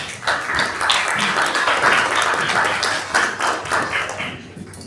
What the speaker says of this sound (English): So let's have a big round of applause for Bob Ferguson.